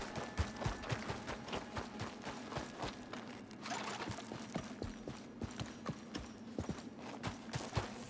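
Horse hooves clip-clop on the ground in the Red Dead Redemption 2 video game, a steady walking rhythm of distinct, fairly close hoof strikes under quiet ambience.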